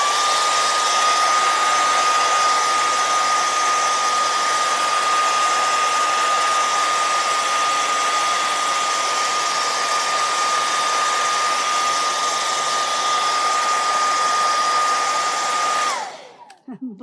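A blow dryer runs steadily and loudly on a stencilled door hanger, drying its paint with a continuous whooshing roar and a faint whine for about sixteen seconds before cutting off abruptly with some handling noise.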